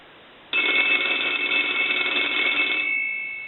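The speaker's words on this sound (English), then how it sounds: "we'll go ahead and ring the telephone" A French style telephone bell rings in one loud, continuous electric trill for about three seconds after a brief quiet start, close and alone, then fades slightly as it ends.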